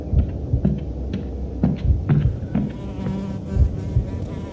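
In the horror video game Dungeon Nightmares, a fly buzzes with a close, droning whine that rises and falls as it circles, punctuated by soft thuds.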